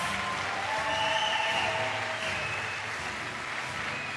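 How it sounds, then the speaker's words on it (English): An audience at a primary school graduation ceremony claps for the graduating class, a dense, steady round of applause that fills the whole stretch without letting up. "Please give a round of applause to the 2025 Valley Primary School graduating class."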